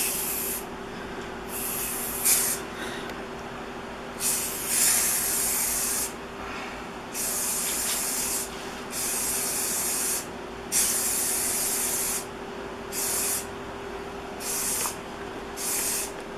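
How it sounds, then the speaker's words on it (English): Cleaner spritzed from a spray bottle onto bathroom mosaic tiles during a renovation, a dozen or so hissy bursts of uneven length, each a second or two long, separated by short pauses against a faint background hum. "you're just going to have to kind of spray it, huh? Then wipe it off."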